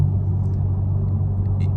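Straight-piped Camaro SS exhaust rumbling in a tunnel at night, a deep, loud, steady low drone with reverberant growl and faint higher hisses.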